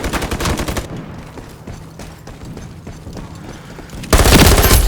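Rapid bursts of automatic gunfire from a first-person shooter game, Ironsight, loud and dense at the start, thinning to scattered distant shots, then erupting again into a heavy close volley at the end, with no talk.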